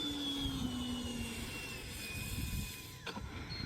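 A scratch-built SAAB J35 Draken RC model jet with a 70mm electric ducted fan comes in to land, its high whine gliding steadily down in pitch under a rough wind-buffeted rumble, fading near the end.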